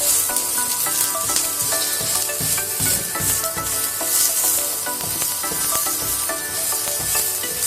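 Uttapam frying in oil on a pan, giving a loud, continuous close-up sizzle with crackling and spoon scraping and pressing sounds mixed in, no talking.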